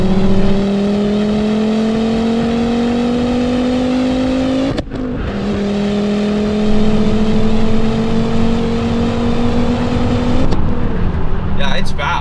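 A 6-speed Volvo V70R turbo wagon revs hard while accelerating, the engine pitch climbing smoothly through a gear before a brief break at the shift and another rising pull, with someone talking over it.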